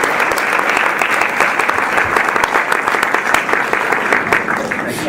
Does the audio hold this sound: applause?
yes